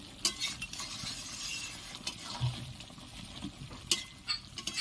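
Chicken pieces for chicken do pyaza being sautéed and stirred in a pan with their released juices, giving a steady low sizzle with scattered spatula scrapes and clinks against the pan, and no voices.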